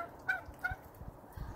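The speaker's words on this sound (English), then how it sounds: "we brought the pool in too, so they're happy ducks now" Ducks near their pool in a backyard give a few short, faint quacks, two brighter calls early on and softer low clucks after, with no talking.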